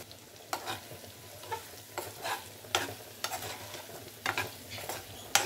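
Chicken masala sizzles in a pan and is stirred now and then, the scraping strokes arriving in irregular bursts over a steady frying hiss, with no one speaking.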